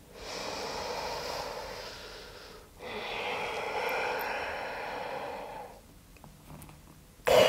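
A deep, slow breath during a seated yoga stretch, a long broadband inhale followed by a second breath. Both are soft and close, and a brief sharp sound comes at the end with no talking.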